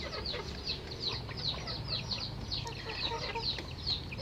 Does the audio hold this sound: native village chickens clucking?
yes